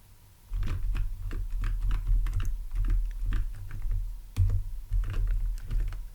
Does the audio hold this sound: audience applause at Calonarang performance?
no